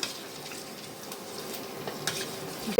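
A spoon stirs a vegetable and lentil dal mixture in a pot, scraping and clinking softly over a faint sizzle, close and continuous with a sharper knock at the end.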